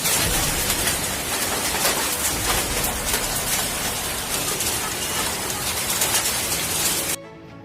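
Hailstorm with strong wind in Binjai, North Sumatra, hammering zinc roofs: a loud, dense, unbroken roar of rattling impacts that cuts off abruptly near the end.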